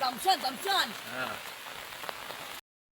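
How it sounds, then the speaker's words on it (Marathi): Rain patters steadily on a surface in the Konkan region, with a person speaking faintly over it before the sound cuts off abruptly. "किती जोर पाऊस लागतो"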